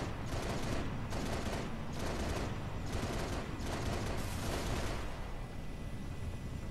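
A mounted gun turret in Halo Reach fires in five rapid bursts, a dense, loud, rhythmic hammering over a steady background roar that continues after the last burst.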